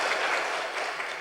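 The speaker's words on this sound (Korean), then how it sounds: "우리 찬양대 박수로 한번 축복합니다." A church congregation applauds its choir after a hymn, a dense, steady wash of hand claps that stays even and fairly quiet throughout the brief moment, with no voices standing out.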